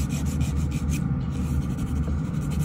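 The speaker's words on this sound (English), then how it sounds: "And filing back and forth," A nail file rubs back and forth across fingernails in quick, even strokes, a soft close-up scratchy rasp repeating steadily, with no voices.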